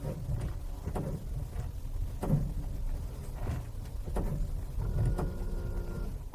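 Repeated brief mechanical buzzes, like a drill, come from a Toyota RAV4 SUV's brakes, about five short bursts spaced roughly a second apart, close and fairly quiet over a low vehicle hum.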